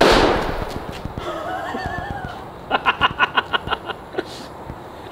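A bubble filled with oxygen and acetylene bursts in a loud blast that fades into a rush of noise, followed by a quick run of sharp, rhythmic pops, while people laugh and react nearby.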